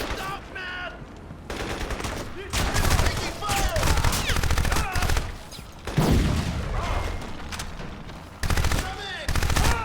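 Rapid bursts of light machine gun fire in the video game Crysis, loud and sustained, broken into several long volleys with short pauses and some whooshing effects between.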